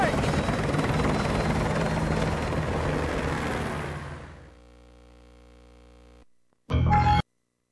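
A military helicopter in Call of Duty: Modern Warfare 2 Remastered thrums loudly, then fades away into near silence before a short, sharp burst of game sound cuts in at the end.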